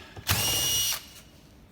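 A power tool removes bolts from a vehicle's seat drawer, giving one short, loud whirring burst close by, followed by quiet handling noises.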